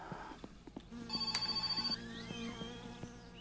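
In the video game My Summer Car, a telephone rings indoors with a brief electronic trill, heard faint and somewhat distant against a low background hum.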